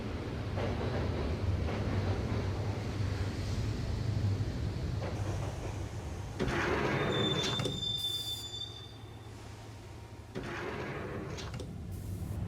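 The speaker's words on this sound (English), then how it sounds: "the train doors had already shut behind me, and I was in for the ride" Subway train ride in the Max Payne video game: a steady rumbling rail roar with wheel squeal and a few high screeching swells and clunks, continuous and close, with no voices.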